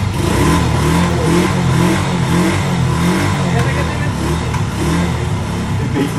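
A motorcycle engine, started after six years in storage, runs loud and close with a steady, rough mid-pitched roar and rising revs throughout, with no pauses.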